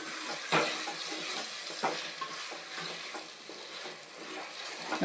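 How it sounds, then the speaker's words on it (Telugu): Raw prawns sizzle in frying ginger paste in a pan, a constant bright hiss broken by soft scraping strokes of a spoon as they are stirred, close up with no talk. "ఇప్పుడు ఈ రొయ్యలు ఇందులో వేసేసుకుందాము వేసుకుని ఇప్పుడు కలుపుకుందాం"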